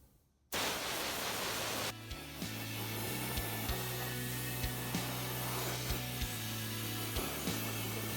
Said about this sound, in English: So what I'm going to do now is just run a DA over it, sand it all up